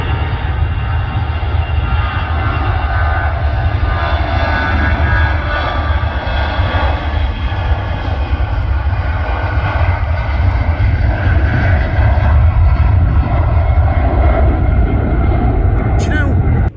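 A Brussels Airlines airliner at Manchester Airport, heard from the Southside viewing park, roars loudly and steadily with a deep rumbling engine wash that stays strong throughout, while people talk over it.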